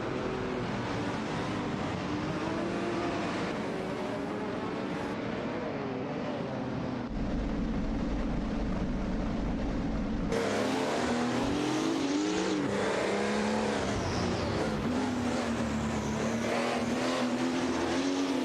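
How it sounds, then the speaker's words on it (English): Race cars tear around a track in a racing video game, engines droning continuously with rising and falling pitch as cars pass, loud and sustained with shifting revs. "Hope you enjoy the race cars tearing up the track."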